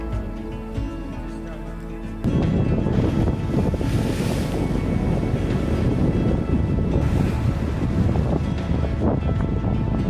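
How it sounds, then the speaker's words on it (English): Sea breeze and wind gusting across a cliff top above the ocean, with a steady loud rush of wind buffeting the microphone and distant surf, rising sharply after a quieter opening. "The sea breeze on the cliff."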